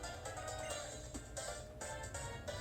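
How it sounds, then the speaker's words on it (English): The X transceiver ringing in the Pokémon White video game, a repeated electronic ringtone in short rhythmic bursts, clear and fairly quiet, with no talk over it. "the X transceiver's ringing"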